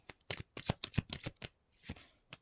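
Tarot cards being shuffled by hand, a quick series of close, crisp riffling flicks in an irregular rhythm, then a softer slide of cards at the end.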